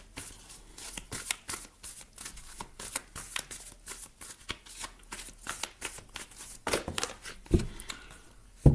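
Oracle cards are shuffled by hand in quick, rapid riffling bursts, close up and fairly clear, ending with a few louder handling knocks.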